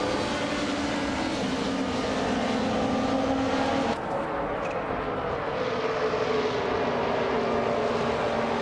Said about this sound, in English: the race kicks off at Phillip Island, and Hingle McCringleberry is on pole, driving a 1999 Lamborghini DR